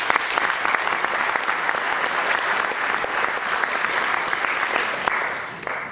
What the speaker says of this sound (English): Please give a round of applause to both speakers.